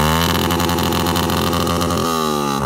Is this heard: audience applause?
no